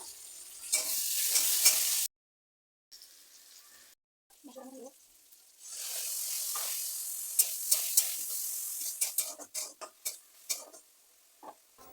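Chopped onion, tomato and spices frying in a pan with a bright sizzle, broken by short pauses, then a steady hiss with sharp stirring clicks and taps close by; no talking.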